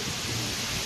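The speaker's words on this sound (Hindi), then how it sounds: "बहुत ही तेज बारिश हो रही है" Heavy rain pours down over a village, a dense steady wash of drops with no pauses, close and fairly loud, with no voices over it.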